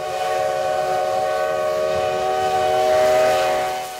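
A nineteenth-century steam locomotive sounds a sustained, loud whistle of steady chord-like tones, holding for about four seconds and swelling slightly before fading at the end, with no speech.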